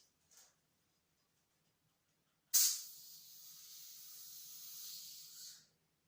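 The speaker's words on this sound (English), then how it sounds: "it should always be a small whisper when you open a bottle of fizz" A bottle of English sparkling wine, Goodworth Brut 2018, opened gently: after a faint tap, a soft steady hiss of escaping gas lasts about three seconds in a quiet room.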